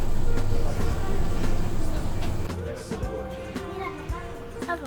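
Inside a Swiss passenger train riding toward Basel, a steady loud rumble of wheels and carriage noise with clatter and squeaks, the roar easing slightly toward the end, no talking.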